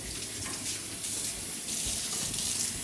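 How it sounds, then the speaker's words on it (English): Tap water runs steadily into a sink while rhubarb is rinsed, a close, continuous splashing rush with slight shifts in flow throughout. "So first thing we're gonna do is rinse the rhubarb."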